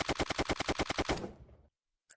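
A rapid automatic burst from an M4 rifle in a VR first-person shooter, about a dozen evenly spaced, loud shots followed by a fading echo tail and a brief click at the end, with no talking.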